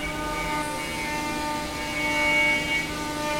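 A spinning-blade cutting machine, its blade turning at around 18,000 revolutions a minute as it travels about 30 metres a minute, runs with a steady, loud, droning whine and layered tonal hums, close by and without voices.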